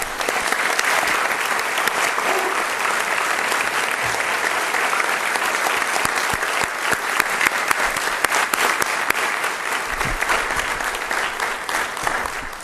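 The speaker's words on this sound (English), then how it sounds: "Round of applause for all three of them," At a city commission meeting, the room gives a long round of applause for a police officer and his parents, dense, steady clapping from a sizable crowd that keeps going without pause.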